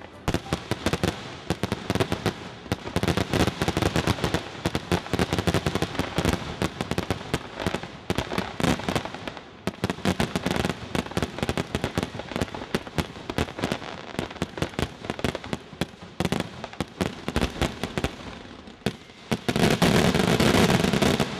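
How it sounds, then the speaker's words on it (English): A town fireworks display in Kingston bursts in dense, rapid volleys of loud cracks and booms, almost continuous for the whole stretch, ending in an intense crackling finale. "including one of the most exciting fireworks displays anywhere."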